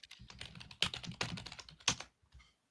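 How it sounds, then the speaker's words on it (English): Typing on a computer keyboard: quick, soft irregular key clicks in short bursts, close by and fairly quiet, with no talking over them. "I was typing."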